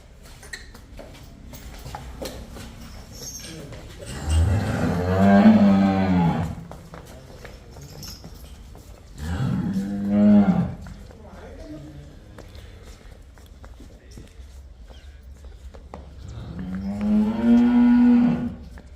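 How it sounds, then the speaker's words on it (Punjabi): Jersey cows on a Punjab farm giving three long, loud, drawn-out moos spaced several seconds apart, with quieter farmyard background between them. "ਤੇ ਹੁਣ ਆ ਜਰਸੀ ਗੱਬਨ ਜੇ ਇਹ ਗੱਬਨ ਜੇ"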